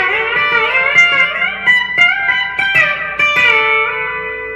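An electric guitar fitted with a B-bender plays a twangy country lick, the bender released so notes glide down in pitch between picked notes, loud and close with no talking.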